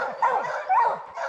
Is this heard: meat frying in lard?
no